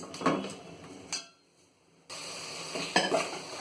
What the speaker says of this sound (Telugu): అల్లం పచ్చివాసన పోయే వరకు వేయించుకోవాలి